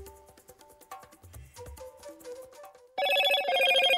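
Motorola 5G smartphone ringtone in an advert: a short sequence of clear melodic electronic notes, then a louder, brighter ringing tone that holds steady to the end.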